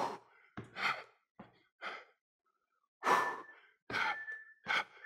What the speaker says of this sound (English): Breathe with your movement. Big exhale as you come up.